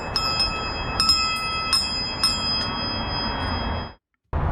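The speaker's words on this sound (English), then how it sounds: "every good rock climbing wall needs some kind of bell to ring when you get to the top" A bell mounted at the top of a DIY backyard rock climbing wall rings several times in quick strikes, each leaving sustained ringing tones, with a steady background hiss before the sound cuts off abruptly.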